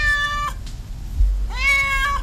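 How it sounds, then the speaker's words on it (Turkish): A frightened cat trapped on the balcony of a burning house in a housing complex gives two loud, close, drawn-out meows separated by a short pause, with low rumbling noise beneath. "Durmadan miyavlıyor, yardım istiyordu."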